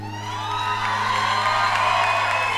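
A church congregation cheers and shouts in praise, a loud, sustained crowd roar with whoops and raised voices and no break, while held musical tones ring beneath.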